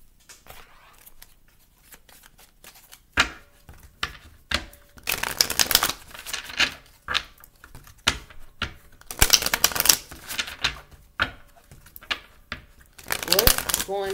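A deck of tarot cards is shuffled nearby in repeated crisp riffling bursts, several loud flurries separated by quieter handling and soft taps.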